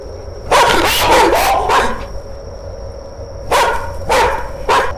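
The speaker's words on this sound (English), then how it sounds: "Control your damn dog." Dog barking in The Karaoke horror video game, a burst of several quick barks followed after a pause by three more, fairly close and loud over a steady background hum.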